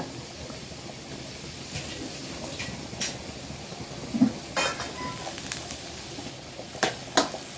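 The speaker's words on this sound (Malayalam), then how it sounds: "ഇളക്കിയൊന്ന് യോജിപ്പിക്കും നല്ല രീതിയിൽ ഇളക്കി യോജിപ്പിക്കുകയാണേ" Prawn and tapioca biryani is stirred and mixed in a pot over a faint sizzle. Soft scraping runs throughout, with a few sharper utensil clinks against the pot, close and fairly quiet, with no talk.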